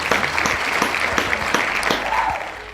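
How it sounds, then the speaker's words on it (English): A brief burst of clapping and applause in a rural primary school turned campground, steady and moderately close for a few seconds, with no talking over it. "Round of applause"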